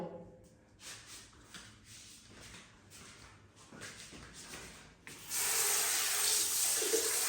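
Pressurized water spray washing down a brushed-clean item outdoors, intermittent splashing at first, then a loud continuous hiss of spray in the final seconds, with people talking underneath.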